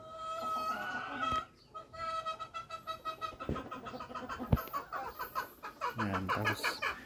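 Gamecock chickens cluck and crow in a yard, a dense mix of overlapping calls from several birds, close and fairly loud, with occasional knocks and thumps.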